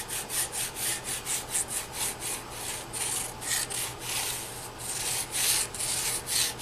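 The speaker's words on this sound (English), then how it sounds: "Just taking off that little burr that gets raised up when you do a scraping cycle." A burr being rubbed off a freshly hand-scraped machine tool surface during a Bridgeport mill restoration: steady, rapid back-and-forth abrasive strokes, about three per second, close and continuous with no talking.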